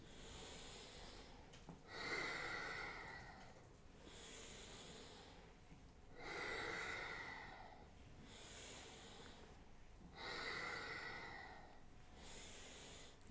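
Slow, deep breathing during a yoga spinal exercise, about six long airy inhales and exhales, close and faint with no talking.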